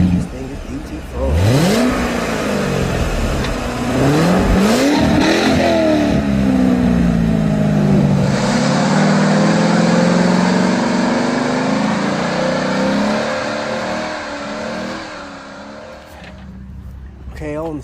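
Car engine revving loudly nearby in a series of rising and falling bursts, then settling into a sustained rumbling roar with a hiss over it before cutting off.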